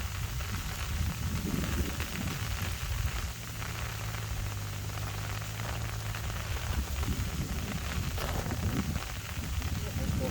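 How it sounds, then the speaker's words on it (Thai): Steady rain pattering during a rice-planting storm in a paddy field, a constant hissing wash with a low hum underneath and a voice now and then. "ฝนตกไม่ยอมหยุดเลยพี่น้องเอ้ย"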